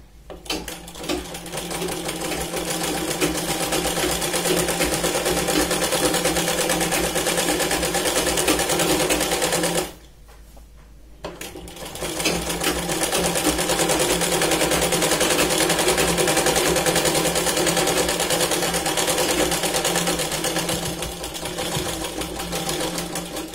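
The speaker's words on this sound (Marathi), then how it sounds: "आता आपण दुसऱ्या साइडच्या कडेने इथे शिलाई लावतोय।" A sewing machine stitches the side seam of a Punjabi dress, running in a fast, steady close whir with one brief pause midway before it starts again.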